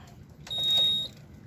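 A single clean electronic beep from a KH940 knitting machine, high-pitched and steady for about half a second, over quiet room noise.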